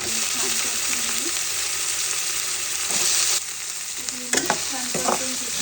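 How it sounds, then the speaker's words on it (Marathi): Pumpkin pieces sautéed with green chilli paste in a pan, a loud even frying hiss with a few scraping stirs, a brief burst of louder sizzle as the pieces go in, and faint indistinct voice sounds. "आता आपण भोपळ्याच्या फोडी त्यामध्ये घालू आणि छान परतून घेऊ."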